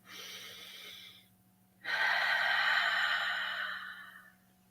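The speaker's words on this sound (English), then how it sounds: "A big, deep, slow breath." Two close, breathy airflows, a shorter intake and then a longer, deeper, slow breath that fades gently, with no talk.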